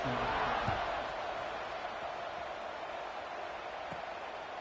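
Football stadium crowd buzzing after a score at a Syracuse vs KSU game, a steady distant roar of many voices with a couple of faint thumps, and a commentator talking over it.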